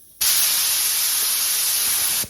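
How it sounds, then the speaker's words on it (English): A spray gun drawing up lacquer thinner as the trigger is pulled fully, giving a sudden loud, steady air hiss that runs for about two seconds and then cuts off. "Once I pull the trigger all the way, it's going to draw this lacquer thinner up into it"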